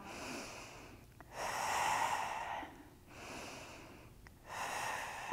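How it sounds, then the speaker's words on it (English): Slow, deliberate breaths during a movement exercise, with air drawn in through the nose and pushed out through the mouth, two clear inhale-exhale cycles alternating with quiet pauses, close and soft. "Breathing, inhale through the nose,"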